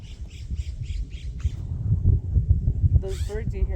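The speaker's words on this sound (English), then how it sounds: "Those birds you hear are blue jays going crazy." Blue jays in a tree call out in a rhythmic series of harsh squawks, then break into a louder, close burst near the end, over rustling and low background noise on an outdoor hike.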